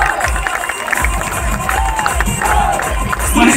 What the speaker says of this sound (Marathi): जोरदार आपण टाळ्या देऊया तिच्यासाठी